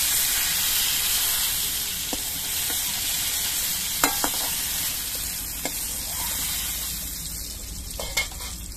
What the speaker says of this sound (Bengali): ঝিঙেটাও আমি বেশ কিছুক্ষণ ভেজে নিয়েছি